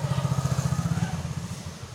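A motorcycle passing by with a rapid pulsing engine putter that fades over two seconds, heard at moderate loudness.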